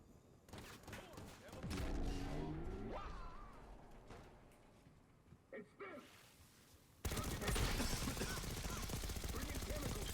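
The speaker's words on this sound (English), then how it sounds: "Just keep shooting him." Bursts of rapid automatic gunfire from the Black Ops 6 campaign, mixed with mechanical whooshes and clanks, build to a loud, dense final stretch, with a voice talking over parts of it.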